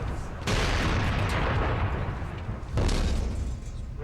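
Two heavy blasts from the guns of the brand-new warship Dauntless during weapons trials, each a loud, sudden boom that rolls into a long rumbling roar.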